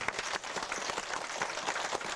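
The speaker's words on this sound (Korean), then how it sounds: "박수 한번 쳐주세요." An audience of seniors claps at a church summer Bible school event, a dense, steady round of applause with many overlapping hand claps that stays even throughout.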